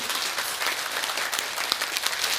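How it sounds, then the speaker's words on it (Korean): A lecture audience at a Korean medicine talk gives a round of applause, a dense, even burst of many hands clapping that fills the whole moment with no voices over it. "박수 부탁합니다."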